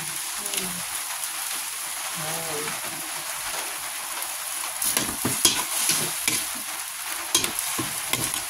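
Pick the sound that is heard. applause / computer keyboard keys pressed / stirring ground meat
stirring ground meat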